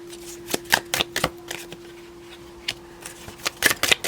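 Tarot cards are shuffled by hand up close, producing irregular bursts of crisp riffling snaps and soft slides over a quiet room tone.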